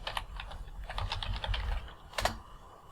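Computer keyboard typing: a few scattered keystrokes, then a denser run of quick clicks and one last firm tap, close and clear with no talking.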